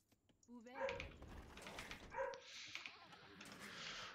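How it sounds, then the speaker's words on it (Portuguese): A female dog barks and whimpers repeatedly in the background, muffled and fairly faint, mixed with bright higher-pitched noise. "Será que vai ser o episódio inteiro dela latindo?"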